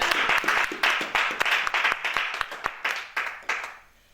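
A church congregation claps together during a French-language service. The applause is steady and rhythmic, with sharp individual claps that fade out at the end.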